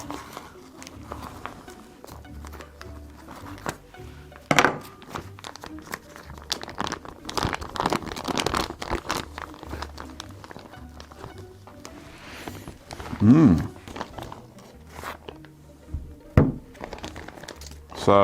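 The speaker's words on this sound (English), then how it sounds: "So let's get this bag off." A plastic bag is peeled and pulled off a block of drunken cheese, giving close, loud crinkling and rustling in irregular bursts, with a voice talking at times.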